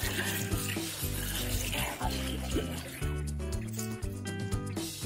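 A muddy toy giraffe from a sandbox is rinsed under steady running water, a continuous close splashing flow lasting the whole time, with faint background music.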